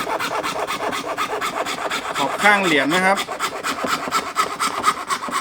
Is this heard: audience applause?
no